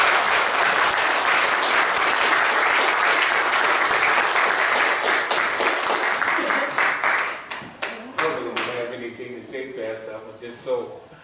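Church congregation clapping at a Sunday morning service, loud sustained applause that thins out toward the end into scattered claps, with a voice speaking over it.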